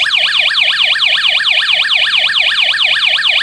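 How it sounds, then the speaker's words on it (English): A loud electronic siren sweeps rapidly up and down in pitch, repeating in a fast, steady wail with no other sounds. "you can do that project and use the alarm sound"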